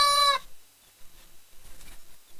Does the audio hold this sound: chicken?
yes